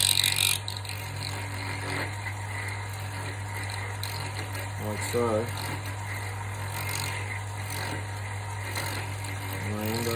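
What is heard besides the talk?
tool cutting knife tang socket in wood on lathe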